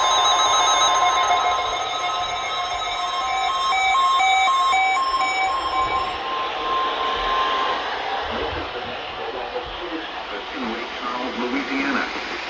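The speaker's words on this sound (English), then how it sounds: "The preceding signal was a test of the NOAA radio warning alarm system" NOAA weather radio warning alarm test tone, a steady electronic beeping alert signal for the required weekly test, fading into hissy broadcast noise as a voice begins speaking.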